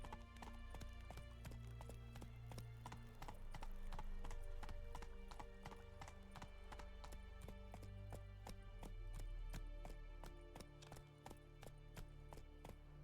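Geralt's horse Roach gallops in The Witcher 3 game, its hooves drumming in a fast, steady clip-clop throughout, loud and close over a low droning background.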